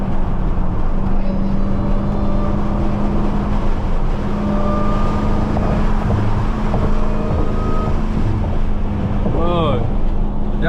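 A jailbroken Dodge Hellcat's supercharger whine rises and falls steadily under a constant loud engine and road roar during a night drive, with a person talking over it.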